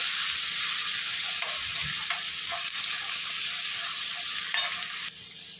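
Chopped onion hisses loudly in hot oil right after garlic, a dense continuous sizzle with faint stirring taps, close and uninterrupted with no voices.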